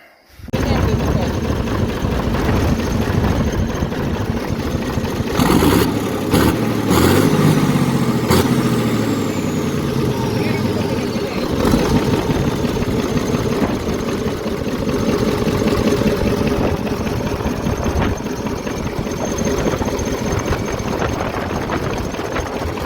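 A Kolos SK-6 combine harvester engine runs steadily and loudly for the whole stretch, with a few sharp knocks and clanks near the middle over the constant drone.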